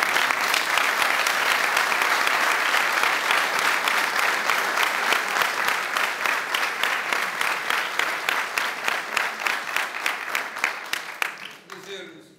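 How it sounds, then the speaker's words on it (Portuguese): A large crowd applauds continuously at the opening of a Benfica supporters' house in Lousada, a dense, loud wash of clapping that holds steady, then thins into more distinct claps and fades out near the end. "Uma salva de palmas para"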